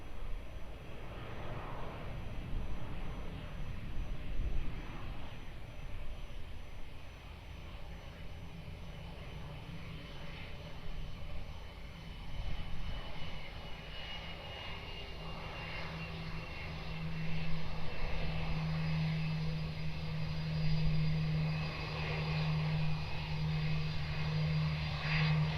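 A Korean Air heavy jet approaches the runway at Lisbon Airport as a steady, broad engine roar. It stays distant but constant throughout and swells slightly toward the end.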